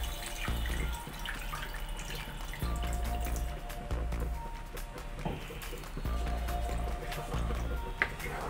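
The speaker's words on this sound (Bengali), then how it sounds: "দুই মিনিট নাড়াচাড়া করার পর আমি এবার পরিমাণ মতো জল দিয়ে দেব।" Water pours into a pan of Bengali tel koi fish curry with a steady splashing, trickling stream that surges in several waves, heard close and with no voices.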